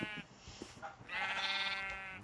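Sheep on a video game farm bleat close and clear, two or three wavering calls, the last one long and loud, with no talking over them.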